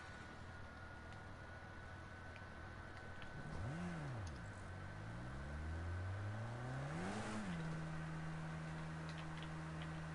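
Engine note of a racing car on a hot lap at Knockhill in a racing video game, rising and falling in pitch through two gear sweeps before settling into a steady, fairly quiet drone, heard alone.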